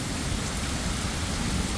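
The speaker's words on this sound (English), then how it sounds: "Still raining." Steady rain pours down outdoors on a yard turned to a flooded mud pit on a hilltop, a dense, even hiss with no gaps, loud and close, with no voices.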